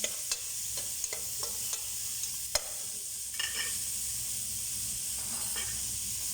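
Plenty of onions sizzle in hot oil with a constant bright hiss while a utensil stirs them until golden brown, giving occasional scraping clicks against the pan, close and steady.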